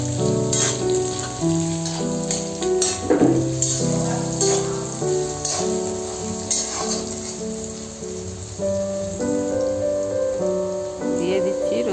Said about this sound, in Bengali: এবার পেঁয়াজটাকে ভালো করে ভেজে নেব।